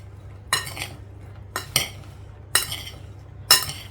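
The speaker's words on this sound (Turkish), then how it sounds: "Kabağımızı güzelce karıştıralım." A utensil scrapes and clinks against a bowl while stirring salted zucchini, making four short, evenly spaced bursts close by over a low steady hum.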